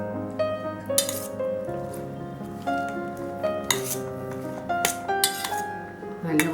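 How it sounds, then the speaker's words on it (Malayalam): A metal spoon clinks and scrapes against a bowl while stirring dosa batter mixed with finely chopped curry leaves and toppings, with repeated close taps over a steady tonal background. "നല്ലപോലെ മിക്സ് ചെയ്യണം"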